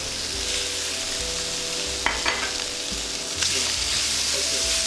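Meat sizzles steadily in hot oil in a pan for fried rice made from scratch in a home kitchen, with a bright continuous crackle, low hum, and a couple of louder spits and stirring clatters midway.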